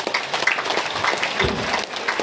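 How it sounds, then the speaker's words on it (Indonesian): Audience applause at a priest's ordination celebration, a dense steady patter of many hands clapping close by for a couple of seconds, with a few louder claps standing out and no talk. "Kita beri tepuk tangan."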